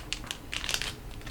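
Quiet crinkling and tearing of a foil condom wrapper being opened by hand, a few short crisp crackles followed by a denser burst of crumpling, with no talking.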